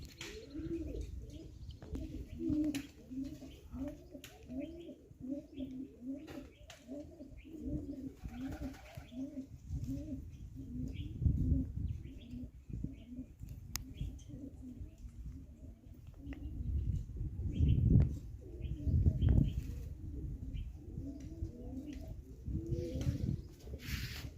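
Pet pigeons at an open rooftop coop, cooing in soft repeated rolling calls that continue throughout, with faint wing flaps and background noise and a little indistinct talk.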